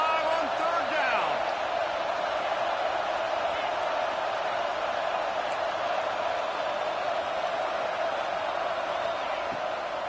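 Crowd at an Ohio State Buckeyes home college football game roaring on third down, a dense, sustained wall of cheering and whooping that stays loud and steady throughout.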